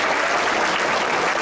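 A dense, steady round of applause from an audience honoring a volunteer at a senior volunteer recognition ceremony fills this brief moment.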